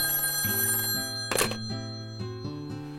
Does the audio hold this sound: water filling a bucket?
no